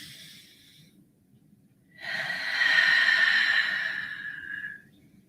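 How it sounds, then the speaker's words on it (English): A single slow, deep breath drawn in and let out, close and fairly loud against a faint steady background hum during a quiet evening prayer, with no speech. "a couple of deep breaths in."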